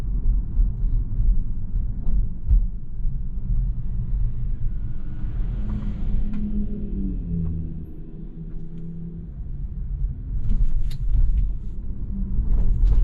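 Inside a Tesla driving itself on FSD Beta 10.4, a steady low road rumble and tyre noise fill the cabin, with a gentle dip and rise as the car slows and moves off again, no one speaking.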